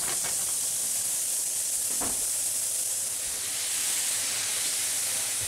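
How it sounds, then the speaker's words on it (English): Two pounds of ground beef browning in a cast iron pan for chili, a steady, soft hissing sizzle throughout with a brief clunk partway, no talking. "And now we add 2 pounds of ground beef to the pan and brown it up."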